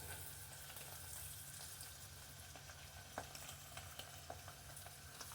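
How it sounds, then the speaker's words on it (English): Turkey being stirred in a pot of boiling liquid, with a steady bubbling, frying-like hiss throughout and a few faint clinks and scrapes of the utensil against the pot. "let's just stir that turkey around"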